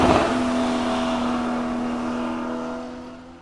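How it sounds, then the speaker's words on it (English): A sports car engine revs hard and then drops to a sustained, slowly fading engine tone that stays fairly close, with no talking. "Sports car."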